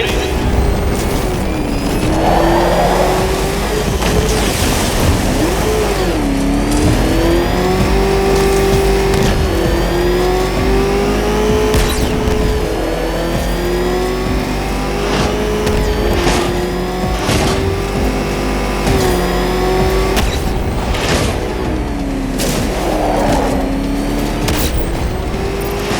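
Engine of the Batmobile in the game Batman: Arkham Knight, a loud steady motor drone that rises and falls in pitch with repeated revs, accompanied by thumps and game effects throughout.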